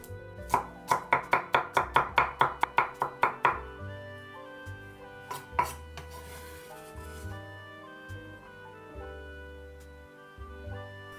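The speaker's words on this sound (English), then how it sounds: "chop 3 cloves of garlic" Garlic cloves chopped with a knife on a board, a rapid run of a dozen crisp, close knocks followed by a few scattered single cuts, with soft background music underneath.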